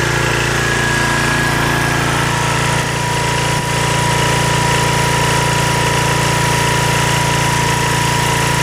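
Close, loud, steady running drone of a Powerchief 3.5kW generator driven by an 8hp Briggs & Stratton engine with a Baldor alternator, an even mechanical hum and buzz that holds unchanged throughout.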